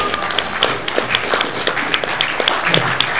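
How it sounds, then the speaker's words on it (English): A small church forum audience applauds for Dawn, a short burst of scattered hand claps at moderate volume, close and fairly sparse, lasting a few seconds without speech. "give her a round of applause"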